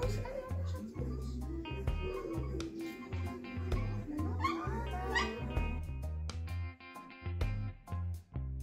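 A shelter dog eating soft food whimpers and yips in thin, high, wavering cries over a steady low background hum, with faint clicks and occasional human sounds around it.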